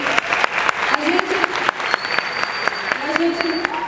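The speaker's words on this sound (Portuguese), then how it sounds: "queria que vocês aplaudissem ele." An audience at a live show in Recife applauds actor Lano de Lins with dense, steady clapping throughout, while a voice talks over the applause.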